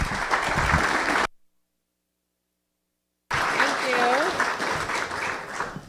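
Applause from a luncheon event audience, a dense crackle of many hands clapping that breaks off abruptly into silence, then returns with some voices mixed in.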